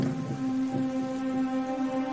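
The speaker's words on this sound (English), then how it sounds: "As the day went on, it began to rain." Rain falls steadily in a forest, a soft continuous patter with a faint low rumble beneath it, no voices present.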